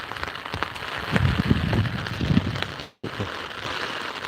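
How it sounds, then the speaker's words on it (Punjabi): Heavy rain pours down on a farm in Sukhladhi, Punjab, in a dense, constant patter on nearby surfaces, with a brief drop in the sound near the end. "ਬਹੁਤ ਜ਼ਿਆਦਾ ਮੀਂਹ ਹੈ ਜੀ"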